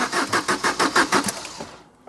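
A Fiat Doblo Cargo van engine cranking with a rhythmic, steady starter churn of about eight pulses, then catching and fading to quiet, heard close and alone.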